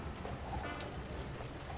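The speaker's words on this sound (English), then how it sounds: "It's raining." Rain falling in the video game Splinter Cell: Chaos Theory, a steady, even hiss of rainfall filling the scene at moderate level, with no distinct drops or thunder standing out.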